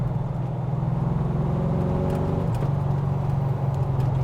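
A GT40 Tornado replica sports car drives rough, bumpy country lanes with a loud, steady engine drone heard from inside the car. The pitch climbs, then shifts sharply midway as the gear changes, and nobody speaks.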